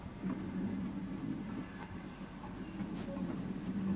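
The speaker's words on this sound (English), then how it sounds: "the train sets off on its first run to Keighley" A heritage train on the Keighley and Worth Valley Railway sets off toward Keighley, a low steady rumble and faint hiss at a moderate distance.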